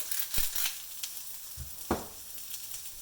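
Thinly shaved food seasoned with salt and pepper sizzles quietly as it fries in a pan, with a soft hiss punctuated by a few brief clatters as it is tossed and stirred.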